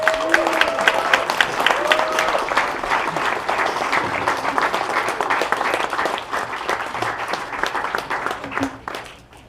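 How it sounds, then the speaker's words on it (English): A crowd applauds at an academic building grand opening, dense sustained clapping with a few cheers and some voices, holding steady before tapering off near the end. "Let's keep the applause going"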